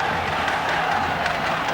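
An indoor futsal crowd in Barcelona at the 1996 World Cup final between Spain and Brazil keeps up a dense, steady roar of many voices, loud and continuous.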